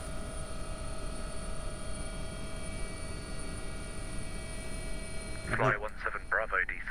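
Steady rotor drone of an AW-139 helicopter in a flight simulator, a constant tonal hum throughout, with a voice speaking briefly near the end.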